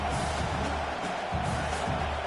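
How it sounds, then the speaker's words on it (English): A dense college football stadium crowd at Georgia Tech versus Virginia Tech roars continuously in a loud, unbroken wash of cheering, with a low rumble underneath. "Listen to this crowd just shaking the girders of this place"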